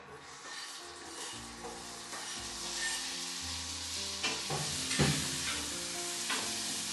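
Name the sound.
cherry tomatoes frying in a pan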